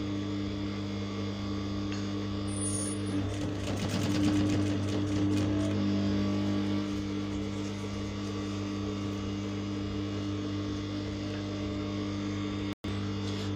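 A sewing machine stitches pleats in a circular pattern for a pleated rosette flounce, whirring steadily at close range over a constant low hum, without speech.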